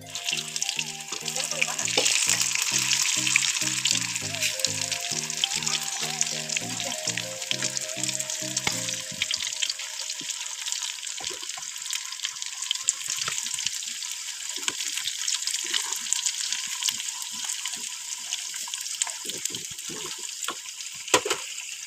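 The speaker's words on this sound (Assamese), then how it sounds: "তেল গৰম হৈ গ'ল, ইয়াতে ভাজি দিছোঁ।" Dough cakes frying in hot oil give a steady, loud sizzle that runs the whole time, with bubbling crackles and some clatter of stirring or utensils near the start.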